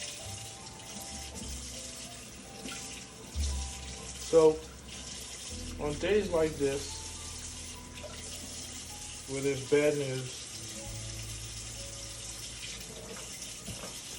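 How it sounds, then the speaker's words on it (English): A kitchen tap runs steadily into a sink while dishes are washed, a constant close hiss of water under a few brief spoken phrases and faint background music. "washing dishes is therapeutic"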